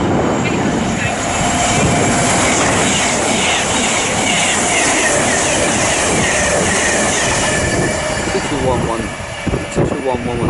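A train rushes through Watford Junction on the West Coast Main Line, a loud, close, sustained roar with rattling wheel noise that eases slightly near the end.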